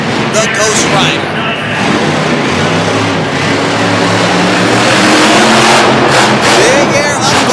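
A Mustang monster truck roars on a dirt arena track, its big engine revving hard and loud throughout, with an announcer talking over the steady engine noise.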